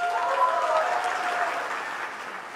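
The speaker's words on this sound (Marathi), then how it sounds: "एकदा स्वतःसाठी टाळ्या वाजवा सगळे" An audience at a Marathi stand-up comedy show applauds in a dense, even burst of clapping that fades slightly toward the end, with no talking over it.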